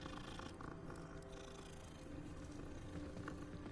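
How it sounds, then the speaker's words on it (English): A cat purrs in the Hogwarts Legacy game, a close, continuous rumbling purr that holds steady throughout over faint background game ambience. "Pet the cat before I Levioso."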